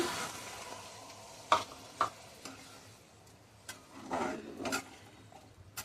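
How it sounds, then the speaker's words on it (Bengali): Water poured into a hot frying pan while cooking katla fish, giving a soft broad sizzle with a few sharp clinks and a louder bubbling burst toward the end, no voices. "আমি জলটা দিচ্ছি"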